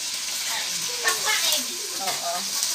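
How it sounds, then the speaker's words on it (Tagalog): Food sizzling in a hot pan, a steady bright crackle and hiss up close, with brief faint voices speaking over the frying. "Panoorin niyo na nagpiprito."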